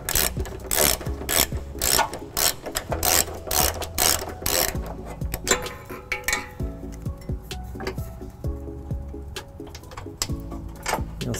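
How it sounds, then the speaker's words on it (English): A hand ratchet with a 17mm socket turns a bolt during a trailer hitch install on a 2012 Toyota Prius Plug-In, its pawl clicking in quick repeated strokes with metallic rubbing, close and clear. "Still using our 17mm socket."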